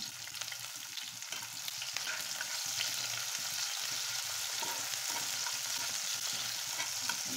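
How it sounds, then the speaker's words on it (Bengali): Chopped garlic and green chilies frying in oil with onion make a steady close hiss and sizzle, with faint stirring scrapes underneath and no talk. "সুন্দর করে ভেজে নেবো। যতক্ষণ না একটা ভালো ফ্লেভার বের হয়ে আসে ততক্ষণ ভেজে নেবো এটাকে।"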